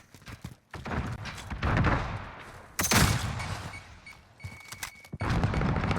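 Rainbow Six Siege esports round with a barrage of gunfire, grenade blasts and stun grenades, loud repeated bursts and booms packed close together throughout, including one sharp heavy blast partway through.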